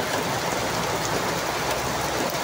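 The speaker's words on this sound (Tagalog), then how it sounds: "Lalaka ng patak." Heavy afternoon downpour with big raindrops, a dense continuous hiss of rain pattering on surfaces, loud and close, with no voices.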